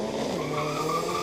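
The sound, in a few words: Mitsubishi Evo drag racing launch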